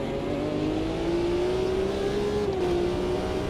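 BMW M1 Procar engine in the racing sim Automobilista 2, held in third gear, a steady close engine drone whose pitch climbs gradually then eases slightly, continuous without speech.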